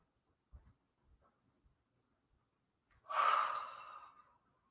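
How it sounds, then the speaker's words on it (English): A person yawns during a voice warm-up, a few faint breaths followed by one long, loud open-mouthed yawn that fades out. "And again, yawning and stretching."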